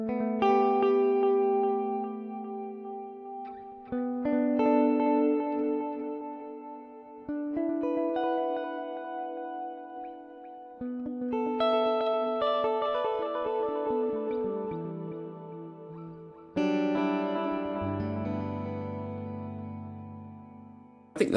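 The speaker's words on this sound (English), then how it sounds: "you're getting a really, really, really decent Space Echo emulation in the HX Stomp" Electric guitar run through a Space Echo tape echo emulation on a Line 6 HX Stomp, with added reverb: sustained chords and melodic lines trailing repeating echoes that smear into a dense wash, loud and close with no talking.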